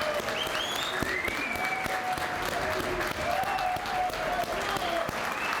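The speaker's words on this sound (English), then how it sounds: "Let's hear some applause." Family and friends applaud at a fire bureau recruit graduation ceremony. The clapping is steady and sustained, with shrill whistles and cheering voices rising above it.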